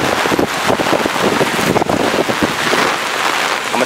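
Severe thunderstorm in Brooklyn, New York City, with gusts over 50 mph lashing rain against an umbrella: a loud, unbroken roar of wind buffeting the microphone over dense, hissing rainfall, with no break.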